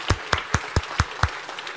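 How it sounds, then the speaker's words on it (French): About six slow, evenly spaced claps, sounding like one person or a small handful clapping nearby, each sharp and separate with quiet gaps between them. "On applaudit quand même."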